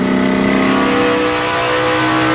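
NASCAR race cars at speed, heard onboard Danica Patrick's car, a loud sustained engine drone with steady high-pitched tones, close and continuous.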